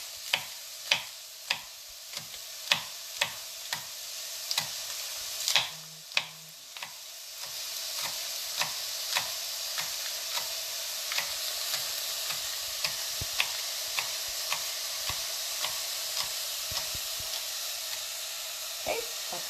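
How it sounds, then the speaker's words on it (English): Mushrooms sizzle in a pan, first under regular ticking taps, then under a stronger steady hiss with repeated scraping clicks of stirring, fairly close and without talk. "And then just stir your mushrooms a little bit more here."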